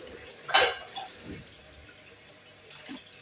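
Tap water runs into a kitchen sink while dishes are washed, with a sharp clink of utensils near the start and faint clatter and splashing afterward, no talking.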